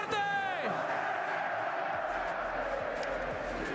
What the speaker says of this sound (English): What a crowd, man.